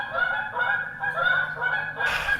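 Geese honk repeatedly in a loud, nasal chorus, overlapping calls continuing throughout, close by and unaccompanied by talk.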